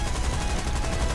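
A short, loud burst of rapid machine-gun fire from War Thunder, continuous and close, with a dense rattling texture.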